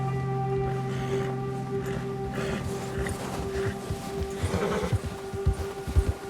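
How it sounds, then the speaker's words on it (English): Horse neighs and hooves clatter in the video game Red Dead Redemption 2, a whinny rising over steady game ambience, followed by a run of close, uneven hoofbeats toward the end. "Okay, so you can calm your horse."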